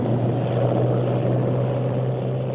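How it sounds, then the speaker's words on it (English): Groups of aeroplanes diving in formation over Afghan Independence Day celebrations in 1949 give a steady, loud engine drone that holds without a break throughout. "Groups of aeroplanes dived in formations, showering congratulatory leaflets all around."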